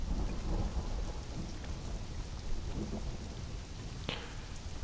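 Rain falls steadily in the video game Conan Exiles, with a low thunder rumble under it and a sharp crack near the end.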